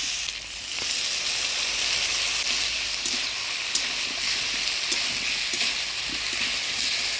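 A pan of fish curry with shola kochu fries loudly as the wood-roasted ground spice paste goes in, a steady close sizzle and hiss with scattered crackles and a few light spoon taps.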